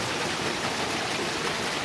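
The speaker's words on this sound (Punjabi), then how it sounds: "ਬਹੁਤ ਜ਼ਿਆਦਾ ਭਾਰੀ ਬਾਰਿਸ਼ ਹੋ ਰਹੀ ਹੈ" Monsoon heavy rain pours down steadily in a village in Mansa district, Punjab, a dense, even hiss of water filling the whole clip with no pauses or voices.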